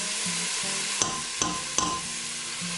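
Chopped garlic, four cloves, hits a hot pan for a barbecue sauce, giving a steady low sizzle with a few sharp stirring clacks of a utensil against the pan.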